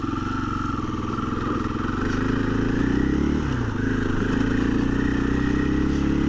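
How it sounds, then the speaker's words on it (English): A 2024 KTM 500 EXC-F dirt bike lugs along at low throttle with a steady, loud, close engine thrum, and the pitch sags and recovers briefly midway. "I'm just going to basically stay at low throttle input, and we'll just see how the bike lugs around."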